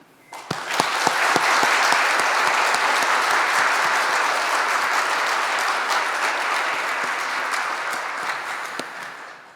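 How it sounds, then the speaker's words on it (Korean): A church congregation at a Sunday service breaks into applause, a few sharp opening claps building fast into a loud, dense, sustained wash of clapping that gradually thins toward the end. "크게 격려의 박수 해주시기 바랍니다."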